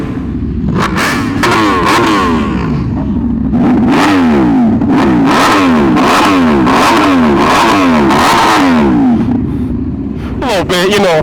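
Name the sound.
motorcycles revving, Kawasaki H2 or Honda Fireblade, group ride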